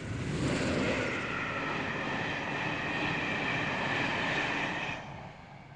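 A train pulled by the independent locomotive of the Spanish 225 rumbles past with a broad, steady roar and a whining mechanical hum, then drops off in volume toward the end.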